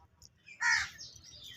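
A crow calls once at moderate distance, a short harsh burst with faint chirps from other birds before and after, over a low steady background hum.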